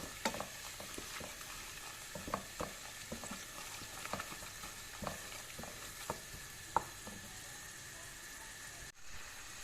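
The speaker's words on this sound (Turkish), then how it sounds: "kavrulan soğanımıza 2 yemek kaşığı kadar un ekleyelim. Unumuzu da şöyle bir çevirelim." Two tablespoons of flour are stirred and toasted with fried onions in a pan, producing a soft, steady sizzle punctuated by regular spoon taps and scrapes, fairly quiet and close.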